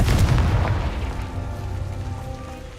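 A Confringo spell blast in Hogwarts Legacy goes off as a loud, deep boom at the start, then rumbles and fades slowly over about three seconds with no voices.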